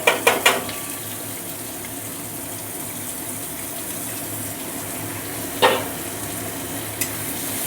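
Chopped ginger, onion and garlic hit hot oil in a pan for Bengali pumpkin-leaf dal, a steady hiss of frying with a few sharp clatters of utensil against pan at the start and again midway.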